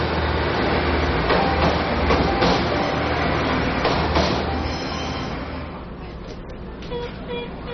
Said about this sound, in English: The Pingxi Railway, originally built to carry coal to Keelung, is a highly scenic 12-kilometre ride.